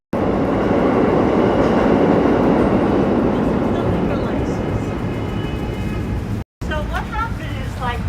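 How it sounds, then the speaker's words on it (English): A train passing in New York City's Greenwich Village, a loud, sustained rumble and rattle of rail cars close by, with people talking over it near the end. "The train."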